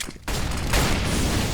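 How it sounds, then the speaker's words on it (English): Sustained automatic rifle fire from an AK in Counter-Strike during a professional ESL Challenger League match, a loud dense burst of rapid shots after a brief quiet start, continuing steadily to the end. "Spec going to show them what the AK can do. Takes down 3, pushing down Banana"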